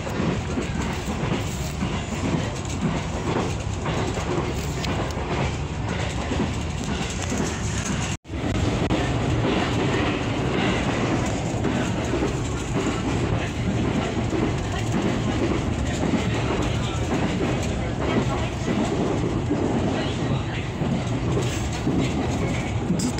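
A train runs on the rails near Nishi-Maizuru, heard from inside a carriage as a steady, loud rumble with continuous rhythmic clatter and a brief break partway through.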